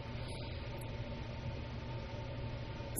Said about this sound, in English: What you're hearing is like the furnace starting, so bear with me.